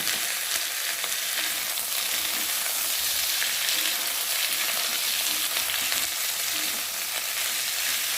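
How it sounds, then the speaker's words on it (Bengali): Potato and eggplant fry with onion and garlic in a pan, giving a steady, close hiss and crackle of sizzling oil with faint stirring throughout, and no talk. "আর এখন আমি পেঁয়াজের সাথে রসুনের সাথে আলু বেগুনটা দিয়ে ভালো করে কষিয়ে নিচ্ছি।"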